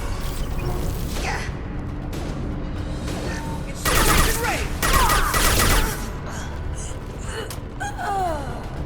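Gunfire from the Mass Effect 2 video game, with bursts of shots and loud combat noise rising in the middle over game music and effects, alongside a character's gasp and spoken dialogue.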